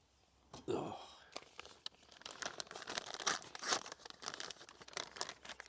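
A paper label is ripped off a tin of Method Ready fishing pellets with one sharp tear, followed by a run of crinkling and crumpling. Quiet voices murmur underneath.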